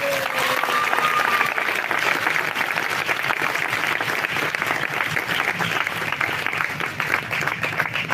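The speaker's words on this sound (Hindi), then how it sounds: "आइए प्रभु के लिए अच्छी ताली बजाएंगे।" A church congregation at a Christian prayer meeting in Umerkote, Odisha applauds steadily throughout, dense sustained clapping from a large crowd with faint voices mixed in.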